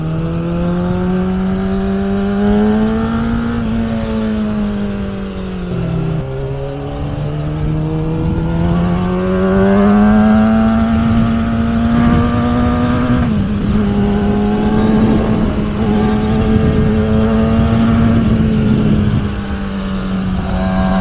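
Engine with a freshly fitted aftermarket exhaust pipe revs loudly and steadily for about twenty seconds, the pitch dipping and climbing in long sweeps close by with no talking.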